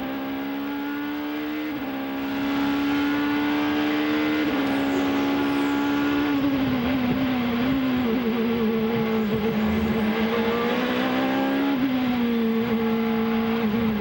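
An American Le Mans Series race car engine heard onboard at Long Beach, loud and close, revving up and down through gear changes with a sustained high whine.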